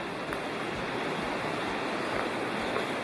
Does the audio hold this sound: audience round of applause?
no